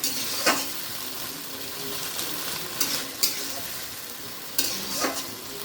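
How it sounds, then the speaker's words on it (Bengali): A spoon stirs banana flower curry in a hot pan, quiet sizzling running throughout with several distinct scraping strokes against the pan at irregular intervals, close and alone. "কিছুক্ষণ এটা একটু নাড়বো আমি।"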